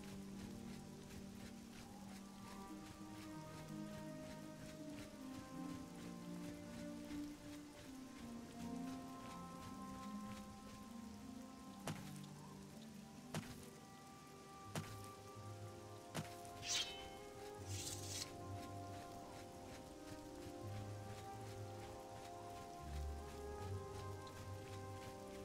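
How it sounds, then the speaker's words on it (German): Steady rain patters down in the video game The Elder Scrolls IV: Oblivion, a continuous soft hiss of drops under layered game music, with a few brief sharper clicks and thuds partway through. "Irgendwie das mit dem Regen hat was."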